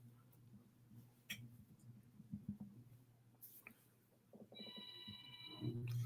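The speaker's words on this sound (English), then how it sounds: "the phone ringing?" A telephone ringing upstairs in a house, a faint electronic trill with repeated bursts toward the end, distant and quiet beneath room noise and scattered small clicks.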